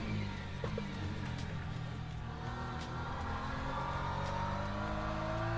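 An Aston Martin GT race car in the Le Mans Ultimate racing game, its engine droning steadily with rising and falling revs and occasional gear-change blips, continuous and close, no voices.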